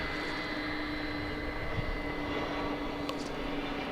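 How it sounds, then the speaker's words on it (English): UPS Airbus A300 cargo jet arriving at Dallas Fort Worth from Houston, a low steady engine drone with a sustained whine, distant and even throughout, with no one speaking. "here comes an Airbus A300 of the UPS variety"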